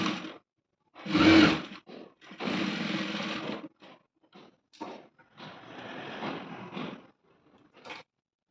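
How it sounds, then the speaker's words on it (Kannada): Sewing machine stitching a high school uniform with a double stitch, running in several short and longer motor bursts separated by pauses, close and fairly loud. "ನೋಡಿ ಇರಿಗೆ ಡಬಲ್ ಸ್ಟಿಚ್ ಹಾಕಿದ್ದೀನಿ ನಾನು"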